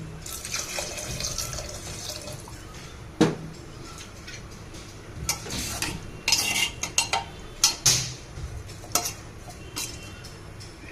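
Water runs into a pot of rice for prawn pulao in a home kitchen, a rushing pour mixed with clinking metal and spoon knocks that grow busier toward the end.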